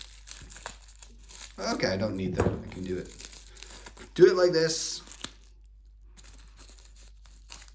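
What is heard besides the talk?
opening MTG proxy card pack wrapper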